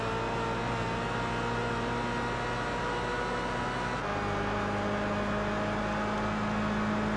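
A race car engine in Gran Turismo 5 drones at a steady pitch after an early upshift, then drops slightly in tone and carries on with a constant, loud whine and rumble.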